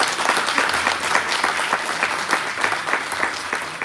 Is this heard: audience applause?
yes